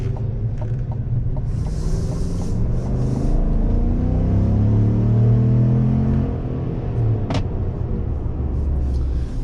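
Engine of a 2024 GMC Sierra AT4X AEV pickup pulling hard under acceleration, a loud deep rumble rising in pitch through the gears from inside the cab, with faint creaks and clicks and no talking.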